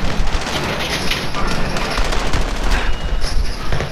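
Dense, continuous gunfire from a multiplayer shooter battle rattles nonstop with heavy booms layered over it, loud and chaotic throughout, while a voice is faintly present in the mix.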